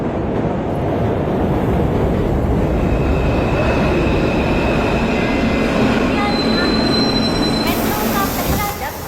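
A metro train running at speed, with a loud continuous rumble and rattling wheels, a rising metallic squeal and whining tones near the end, heard from on board with little else.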